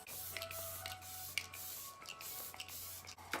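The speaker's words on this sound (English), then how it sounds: "I always spray the Fresh Vitamin Nectar Antioxidant Glow Water." Fresh Vitamin Nectar Antioxidant Glow Water face mist is pumped in a series of short, soft hissing sprays, about six quick bursts at an irregular rhythm, close by but quiet.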